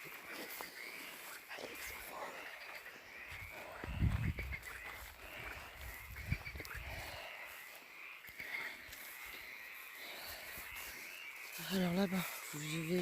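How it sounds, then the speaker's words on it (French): Frogs croak at night in an old cemetery near a port, a steady chorus running through the whole stretch while someone talks over it. "les grenouilles chanter"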